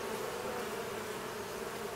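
Honeybees buzz steadily at an open, healthy hive in late July, a dense continuous drone held close and even for the whole stretch, with no voices over it.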